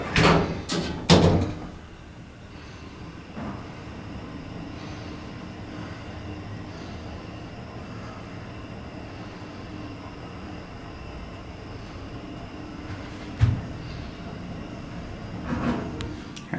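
An OTIS Series 1 hydraulic shuttle elevator near a hotel casino balcony runs with a low, steady hum and faint whine under a busy background, framed by a few sharp clunks of doors or machinery at the start and end.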